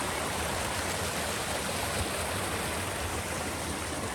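A forest brook on the Koronjää trail in Korouoma, Posio, Finland, a steady, full rush of babbling water that fills the whole stretch, close and even, with no voices.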